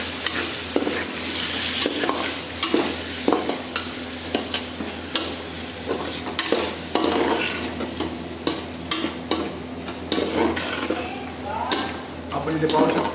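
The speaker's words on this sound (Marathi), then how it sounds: "व्यवस्थित आता आपल्याला हे सर्व मिश्रण हलवून घ्यायचं आहे।" A masala mixture with fresh coriander is stirred in a pan for a chicken kala masala curry, giving steady scraping and sizzling close up, with repeated spoon strokes and no talking.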